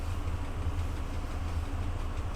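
A locomotive in the Train Driver 2 game rolls into a platform during shunting, giving a steady low engine rumble with no other sounds.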